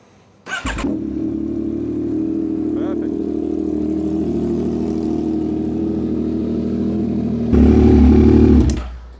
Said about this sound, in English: Now we can start the bike.